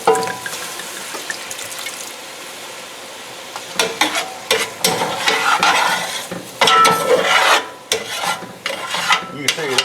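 Wine reduces in a pan with braised beef while a utensil stirs and scrapes against the bottom, giving bursts of sizzling and clattering scrapes over a soft, steady bubbling, close and fairly loud.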